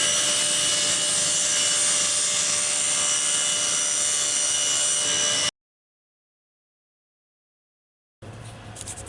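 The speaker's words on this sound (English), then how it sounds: "we've adjusted the saw table to the correct size, and we're just going to cut these ones up now" A table saw cuts wooden tray bases, giving a steady high whine with a tonal hum for about five seconds, then a sudden gap of silence before the running saw noise returns more faintly; no voices.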